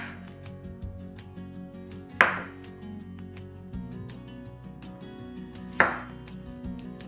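A knife halving potatoes on a cutting board for air fryer wedges, quiet background with two sharp, distinct chops standing out, no talking.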